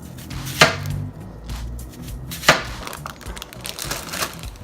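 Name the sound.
crushing with a knife while preparing picanha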